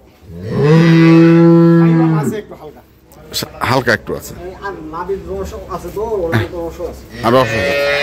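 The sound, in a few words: cow mooing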